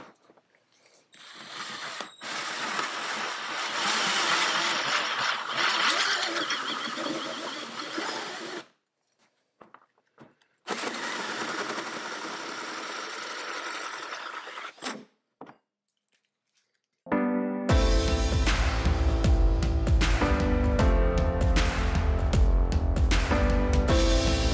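A drill bores a pilot hole through the wall of a teardrop camper in two sustained, close runs separated by a pause, followed by music.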